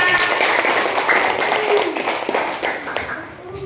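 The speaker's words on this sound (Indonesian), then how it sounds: "Oke, tepuk tangan untuk kita semua." A classroom of children claps together in a busy, continuous patter of many small hands, close and fairly loud, tapering off toward the end.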